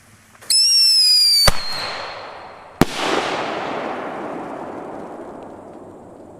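A single-shot firework launches with a sharp whistling rise, then a loud pop and, about a second later, a big booming burst whose rumble fades slowly into the open air.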